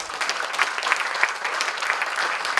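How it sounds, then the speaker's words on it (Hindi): An audience at a national poetry gathering of young poets claps steadily, a dense wash of applause at constant volume throughout with no voices over it. "ऐसे ही ताली मत बजाइए"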